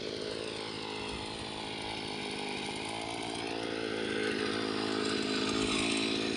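A gasoline two-stroke earth auger drill used for digging fence post holes runs steadily with a buzzy, rasping engine drone, close and loud, slightly swelling toward the end, with no voices.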